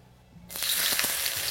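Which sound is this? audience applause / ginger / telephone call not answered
ginger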